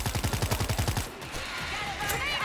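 A machine gun in the zombie shooter World War Z: Aftermath fires a fast rhythmic burst of about a dozen rounds for roughly a second, then stops, leaving noisy echoing ambience.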